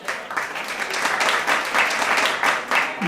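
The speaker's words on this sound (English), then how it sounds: "What are you clapping for?" A stand-up comedy audience breaks into applause, a dense, steady wash of many hands clapping that carries on for about three seconds at fairly close range.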